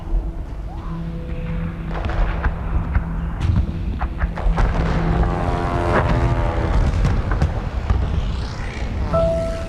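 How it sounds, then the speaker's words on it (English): Wartime soundscape with booming artillery fire, rumbling tanks and droning aircraft, dense and loud throughout, heard during a game press conference presentation. "through the evil noise of artillery, tanks, and planes"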